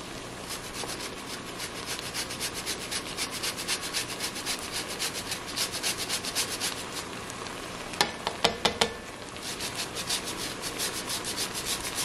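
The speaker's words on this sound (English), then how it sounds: "then we're going to grate in some ginger" Frozen ginger grated by hand: a steady, rhythmic rasping scrape of quick back-and-forth strokes, close and fairly loud, with a few sharp taps near the end and no talk.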